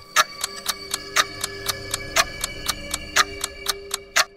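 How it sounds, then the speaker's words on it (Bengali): A clock tower clock ticks steadily at night, about four crisp, evenly spaced ticks per second, close and clear over a faint low hum, with no voices. "হঠাৎ টিক টিক শব্দ শোনা গেল।"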